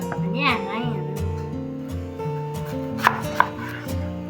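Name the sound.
knife chopping beetroot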